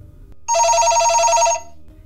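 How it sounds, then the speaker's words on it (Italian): A telephone bell rings once in a single sustained trill of about a second, alone against a low steady hum, with quiet before and after. "in lontananza si udì lo squillo di un telefono"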